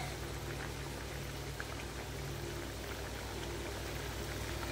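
Mustard-paste curry simmers in a pan, a faint, even bubbling hiss over a low steady hum, continuous and unbroken, with nobody speaking.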